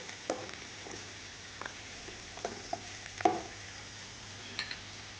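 Two green chillies fry in a pan for capsicum biryani, a quiet sizzle broken by scattered sharp clinks and scrapes of stirring.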